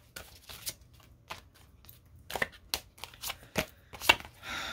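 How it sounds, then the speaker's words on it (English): Tarot cards are shuffled by hand in a quiet room, giving a quick series of soft, close riffles and flicks in an uneven rhythm. "One more shuffle, please"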